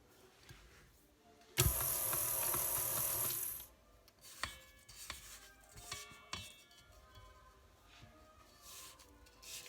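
An old, secondhand KitchenAid stand mixer whirs loudly and steadily as it mixes chocolate cream cheese cupcake batter, then stops, followed by softer clinks and scraping in a kitchen.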